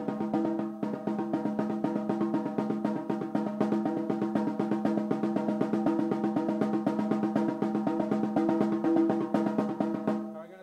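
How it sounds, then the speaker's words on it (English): A drumstick roll played with bouncing strokes, a dense rapid stream of hits running steadily and loud for about ten seconds with no talk, pitched tones ringing underneath. "You have to like push the stick forward so it can just bounce back."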